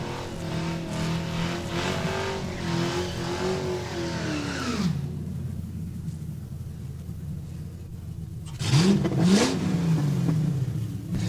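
Drag race cars, including a yellow Duster, accelerating down the quarter mile at Saskatchewan International Raceway: a sustained engine roar that climbs in pitch, drops at a gear shift, then swells again, heard from a middling distance.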